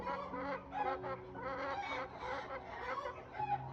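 A flock of battery hens clucking and calling together, with overlapping nasal, drawn-out squawks and murmuring clucks, steady and fairly close, with no talk.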